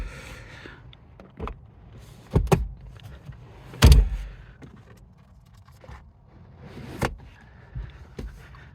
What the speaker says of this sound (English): we'll fold these seats back up